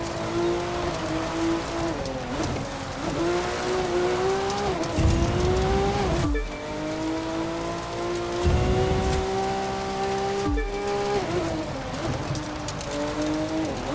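An off-road car in a racing video game revs hard and steadily for the whole stretch, its engine pitch climbing and dropping as it shifts. Loud rumbling bursts break in now and then, and no one speaks.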